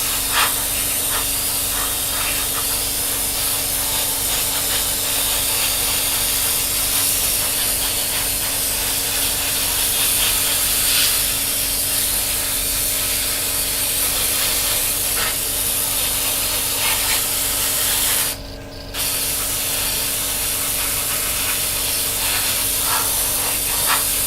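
Airbrush spraying a white coat of paint onto a Tamiya 1/48 F-16 Falcon scale model, a loud continuous close hiss with a steady mechanical drone underneath, briefly cutting out near eighteen seconds before resuming.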